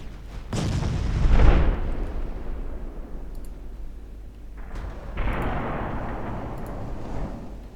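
Naval gunfire in the warship game Ultimate Admiral Dreadnoughts, a loud booming salvo early on followed by a rumbling decay, then a second softer volley of distant blasts.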